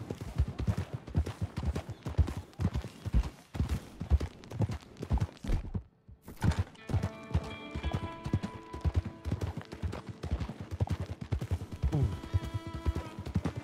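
A horse in the Red Dead Redemption 2 video game gallops with loud, steady, rhythmic hoofbeats. The hooves cut out for a moment midway, then resume over a faint tonal musical background.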